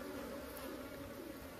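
Stingless bees buzz around a wild honey nest during a harvest, a dense, steady hum close by, with no talk over it.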